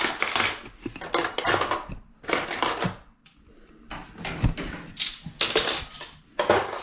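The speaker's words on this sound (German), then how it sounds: "Weil meine Frau den Geschirrspüler ausräumt." Dishes and cutlery clatter repeatedly as a home dishwasher is unloaded, bursts of clinking crockery and rattling silverware coming in irregular clusters with short pauses, close by and fairly loud, with no talk.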